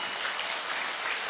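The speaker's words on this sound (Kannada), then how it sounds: "ಇನ್ನೊಂದು ಸಲ ನಮ್ಮ ಕಲಾವಿದರಿಗೆ ನಾವು ಪ್ರೋತ್ಸಾಹ ನೀಡೋಣ ಜೋರಾದ ಚಪ್ಪಾಳೆಯ ಮೂಲಕ" A large audience at the Mangalore Dasara 2025 cultural program claps continuously, a dense, even wash of applause throughout, with no voices standing out.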